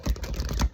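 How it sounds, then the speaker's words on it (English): Tarot cards being shuffled by hand, a run of quick papery riffling bursts close to the mic with a short pause partway through, no voices. "So I'm going to shuffle these cards"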